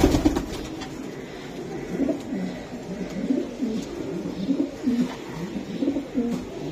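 Racing pigeons from a club loft coo repeatedly at close range, a series of low, throaty, rolling calls rising and falling in a steady rhythm, with no speech over them.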